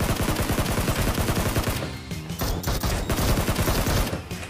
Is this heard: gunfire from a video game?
yes